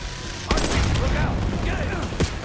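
Gunfire in Call of Duty Black Ops 6, a dense, punchy burst of rapid game shots with a sharp crack at the start and another near the end, loud and full over busy combat noise.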